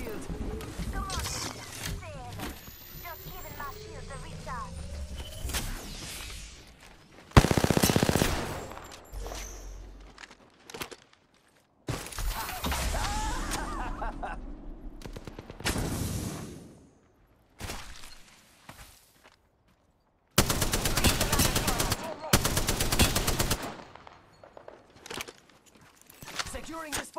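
Gunfire in the battle royale shooter Apex Legends, with Octane as the player character: dense bursts of rapid automatic fire and loud shots come in several intense blasts with gaps between them, alongside in-game voices and footsteps.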